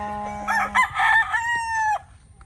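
A young fighting rooster (stag) at the Majic Jade gamefarm crows once, loud and close, in a full drawn-out call lasting about a second and a half.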